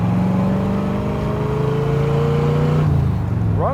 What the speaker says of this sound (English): It's got that signature Corvette sound too.